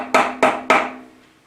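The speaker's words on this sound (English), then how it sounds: "just the small matter of the head dowels to tap in with the soft hammer" Three sharp taps of a soft-faced hammer driving dowels into the cylinder head face of a Mini long block engine under assembly, evenly spaced and close, each with a short ringing decay, no talk.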